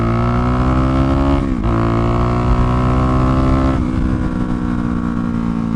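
A DRZ400 motorcycle engine idles at around 1,700 rpm, a loud, steady, close-up thrum with two brief dips in pitch, and no voices.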